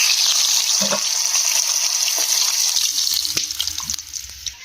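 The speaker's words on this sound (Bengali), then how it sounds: "কড়ার মধ্যে তেল দিয়ে দেবো। ইলিশ মাছগুলো এক এক করে ভেজে নেবো।" Hilsa fish fries in hot oil in a wok, giving a steady close sizzle with scattered spatters and pops that thin out toward the end.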